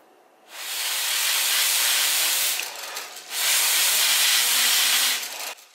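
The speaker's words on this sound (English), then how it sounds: "even just blowing these blades seems to be good enough" Air is blown onto the blades of a Lego air turbine in two strong, close bursts of broad hissing rush, each lasting a couple of seconds with a short gap between them.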